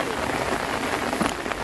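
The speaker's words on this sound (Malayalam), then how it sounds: "നല്ല മഴയാണ്. കറി വെച്ച് കയറിയ സമയത്ത് മഴ തുടങ്ങിയതാണ്." Heavy rain falls steadily during an outdoor cooking session in Kerala, where a wallago catfish curry is being made, as a dense, continuous hiss with scattered drop impacts and a faint murmur of voices.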